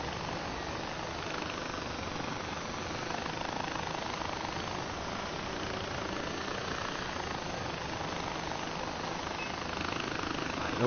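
A helicopter flies in Far Cry 4, its rotor and engine making a steady, loud, dense roar that holds at an even level without a break for the whole stretch, with no talk over it.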